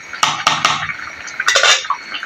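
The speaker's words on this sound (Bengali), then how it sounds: "এখন আমি ঢাকাটা দিয়ে দিব।" Lid set onto a cooking pot of Bengali fish pulao, a cluster of loud close metallic clanks and scrapes, a pause, then another burst of rattling metal contact, no voices.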